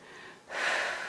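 A single deep inhale taken during a pregnancy fitness workout, a soft breathy draw that swells suddenly halfway through and stays close and fairly loud on its own, without any talk.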